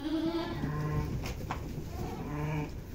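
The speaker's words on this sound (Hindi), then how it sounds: "ये ठहरा हुआ है छोटा बच्चा भेड़ का, ये सुबह सुबह दिया है दोस्तों" A newborn lamb on a goat farm bleats in a few wavering, nasal calls, close by and fairly loud, with a steady farmyard murmur behind and no talking over it.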